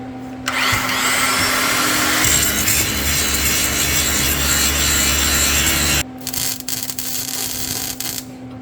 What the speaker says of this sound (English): let me get this here ground up a little bit, cleaned up. I'm using my small grinder